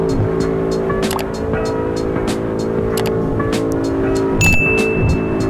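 A Mercedes C63s racing near 300 km/h in Assetto Corsa, with a loud, sustained engine drone, high revs and tire noise, plus repeated short clicks and a brief shift in tone toward the end.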